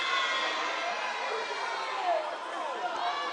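Home crowd in a college volleyball gym, Paine College against Benedict College, keeps up a steady roar of cheering and shrill shouts with lively chatter throughout.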